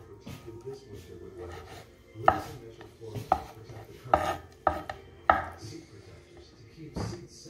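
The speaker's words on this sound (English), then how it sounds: "so I cut small like this" Knife chopping scallops into small pieces on a board, a handful of sharp, separate thuds at an uneven pace, close and fairly quiet, with soft handling noise between the cuts.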